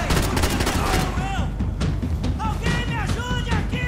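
Gunfire in Max Payne 3 crackles in rapid bursts of close shots, with a few sharp whizzing tones between volleys and a faint voice underneath.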